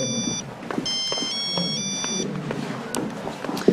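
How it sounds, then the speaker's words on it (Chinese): A mobile phone ringtone plays a repeating electronic melody at moderate volume over some room noise, with no talk. "这谁呀？ 总打电话，我接一下，小王。"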